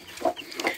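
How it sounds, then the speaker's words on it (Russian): Young laying-hen chicks raised at home give two short, high cheeping calls close by, about half a second apart, with no talking. "Где ваши цыплятки?"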